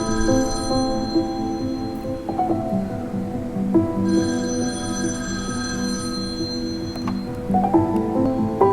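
A telephone rings for an incoming call at a hospital laboratory, with repeated bursts of bright, trilling bell rings separated by short gaps, loud and close over a steady background hum.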